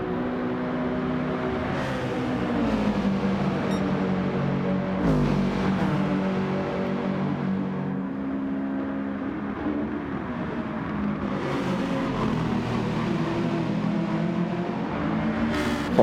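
Super touring race cars in Gran Turismo 7 keep up a continuous loud engine roar, the revs rising and falling as gears change, with several cars layered together and no talk.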